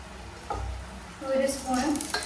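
Ghee heats in a pan on the stove for ghee rice, giving a soft, close sizzle with a dull knock near the start and a few light scrapes and clinks of utensils.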